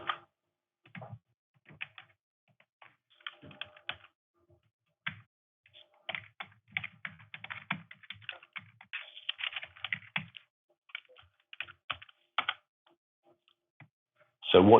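Card number keyed in on a computer keyboard during an online payment checkout, bursts of light close clicks and taps separated by short pauses.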